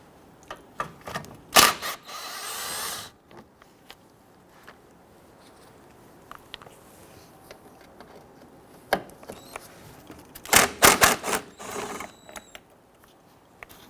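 Ratchet wrench loosening 10mm bolts on a 2006-2012 Toyota RAV4 windshield washer reservoir, heard as bursts of rapid clicking separated by quieter handling and metallic taps.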